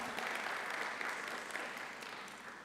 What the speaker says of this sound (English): another round of applause for our MEC